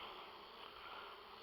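Honeybees hum continuously at an open hive being moved, a dense, steady buzz close by with no voices.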